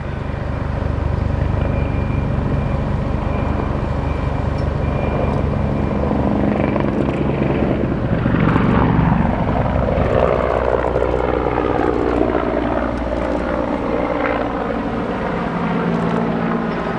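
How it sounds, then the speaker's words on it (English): A Czech Air Force Mil Mi-24 Hind attack helicopter flies past at a British airshow, its loud rotor thump and turbine roar steady throughout, swelling and shifting in pitch as it passes overhead. "this is still a very, very potent attack helicopter"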